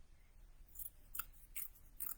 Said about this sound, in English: You just trim the excess fabric away.